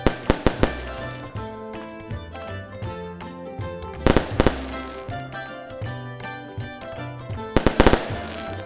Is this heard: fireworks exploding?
yes